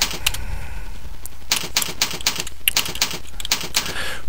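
Rapid, irregular clicking of keys on a computer keyboard, typing names into Windows Notepad in bursts with brief pauses, close and fairly crisp, with no voices.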